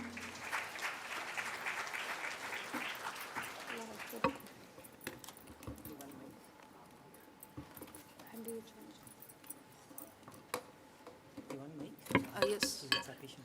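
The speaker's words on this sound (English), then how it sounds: "So we'll welcome them by motivating by clapping them." Audience at a RISC-V technology symposium clapping to welcome presenters to the stage: dense applause for about four seconds, then fading to scattered claps and faint clinks.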